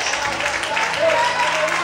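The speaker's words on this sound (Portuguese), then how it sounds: "Bate palma e adora o Senhor nessa noite." A church congregation clapping together in worship, a dense continuous patter of many hands filling the room, moderately loud, with voices and sustained tones mixed in beneath.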